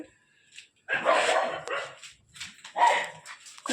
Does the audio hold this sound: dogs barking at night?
yes